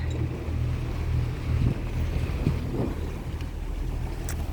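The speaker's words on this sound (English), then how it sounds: "that engine is loud" Steady low rumble of a boat engine running, mixed with wind buffeting and water noise, continuous and fairly loud.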